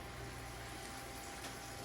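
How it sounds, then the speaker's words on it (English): Steady, dense hiss of meat sizzling in a hot wok, continuous and fairly loud throughout with no pauses. "Love the sizzle of meat."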